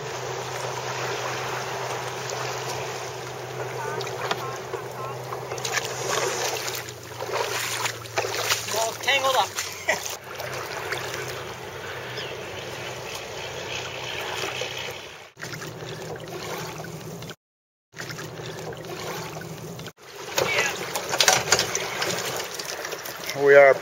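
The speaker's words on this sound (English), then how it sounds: "We are paddling through the Virginia Channel." A kayak paddles through the Virginia Channel toward Mockhorn Bay, with soft water swishes and wind noise against the mic running throughout. A brief dropout comes near the end, and no clear talking is heard.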